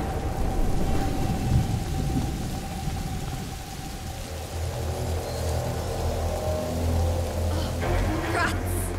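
A rainstorm in the video game A Plague Tale: Innocence, with loud rumbling thunder rolling through steady rain. A low roar swells and fades across the span, a few sharp crackles come near the end, and a voice can be heard under it.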